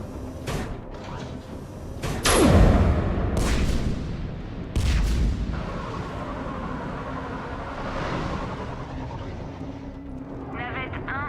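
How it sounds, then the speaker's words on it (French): Heavy cannons fire in the Mass Effect 3 sci-fi video game, a few deep, rumbling booms spaced seconds apart beneath spoken dialogue and busy battle ambience. "Percez un trou dans le périmètre avec les canons,"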